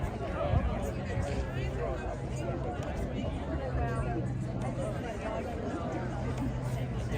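Crowd gathering at a 'March to Mitch' protest in Louisville, a steady dense babble of many voices chattering nearby, with a low hum underneath and no single voice standing out.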